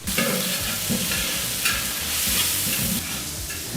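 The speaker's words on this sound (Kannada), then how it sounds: "ಈಗ ಇಲ್ಲಿ ಟೊಮೊಟೊ ಹಣ್ಣು ಈರುಳ್ಳಿ ಚೆನ್ನಾಗಿ ಫ್ರೈ ಆಗ್ತಾ ಇದೆ" Tomato and onion frying with spices in a pan for chicken biryani, a loud steady sizzle with repeated scraping stirs of a spoon, close up and with no voices.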